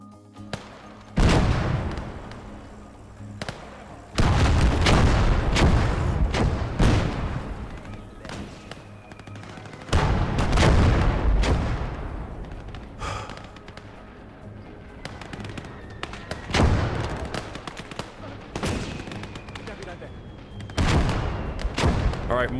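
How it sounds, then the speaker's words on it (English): Mortar support fire in a war video game: a series of heavy distant explosions and booming impacts arriving in bursts every few seconds, with rumbling decay and scattered smaller blasts between them. "mortar support is doing a world of wonders"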